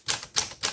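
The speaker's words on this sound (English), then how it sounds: "Okay, let's do some typing." Three crisp key strikes on a 1936 Corona Sterling flat top typewriter, evenly spaced and close, with a sharp clack each time and nothing else in the background.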